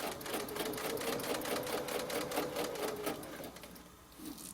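A sewing machine double-stitches a jewel-pattern pillow, running steadily and close with a fast, even needle rhythm for most of the stretch before easing slightly near the end.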